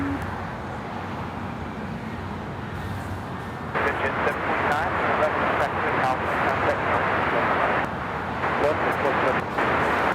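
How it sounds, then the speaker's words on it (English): An All Nippon Airways Boeing 787-9 Dreamliner takes off from Los Angeles airport bound for Tokyo Narita, its engines a broad distant roar that swells to a louder steady rumble partway through, with speech over it. "As on Nippon Airways Flight 5 taking off to Tokyo Narita on the"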